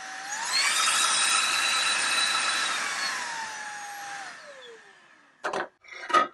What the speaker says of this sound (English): we have auto, so we can turn that on or off. And we can increase the suction.